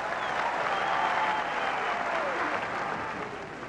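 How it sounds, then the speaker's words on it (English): Arena crowd at a Pride 19 mixed martial arts event giving a loud, sustained ovation for fighter Kiyoshi Tamura, a dense wash of applause and cheering that tapers slightly toward the end. "Getting a huge ovation here from the crowd."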